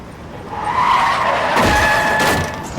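A car skids loudly with screeching tires and an impact crash in a music video scene, a continuous roaring squeal lasting a few seconds without speech.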